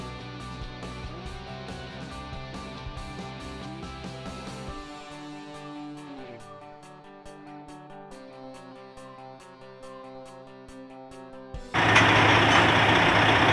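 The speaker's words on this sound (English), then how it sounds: "a specialized truck is used to get the shelter placed in the shelter location" A specialized truck used to place a storm shelter safe room at an installation site runs steadily, its engine and machinery tones holding throughout, before a loud broadband rush of hydraulics or air bursts in near the end.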